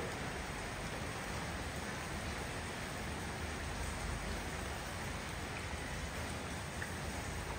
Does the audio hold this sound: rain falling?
yes